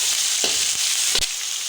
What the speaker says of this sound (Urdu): اس میں بون لیس چکن ایڈ کریں گے۔ اس کو اچھی طرح فرائی کر لیں گے۔